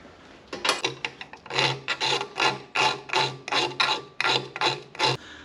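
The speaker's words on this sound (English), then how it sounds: "I'm going to get a file and we'll file that out." Hand file rasping back and forth across a part during diesel fuel system upgrade work, a dozen or so quick, rhythmic strokes, close and clear with no talking.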